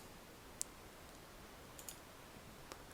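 A computer mouse clicking in VPN settings: a single sharp, faint click, followed by a few softer ticks over a steady background hiss.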